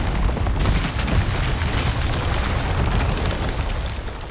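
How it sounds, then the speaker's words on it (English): A grenade blast in Resident Evil 4 Remake, a loud booming explosion with a sustained rumbling, crackling roar that fills the whole stretch before slowly easing off. "I might have to fucking throw a grenade at them"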